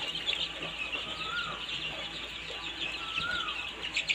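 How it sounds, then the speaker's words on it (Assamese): A flock of one-month-old brooded chicks, a dense continuous chorus of high peeping and chirping close by, with occasional louder calls rising above the steady chatter. "এইখিনি পোৱালি আমি অলৰেডি একমাহ বয়স"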